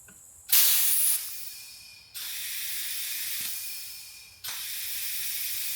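Air hisses loudly out of a leaking test fitting on a homemade exhaust for an Audi/VW 1.8T engine swap, in several bursts of steady, close hissing separated by short drops.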